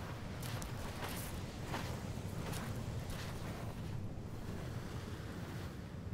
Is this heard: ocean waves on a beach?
yes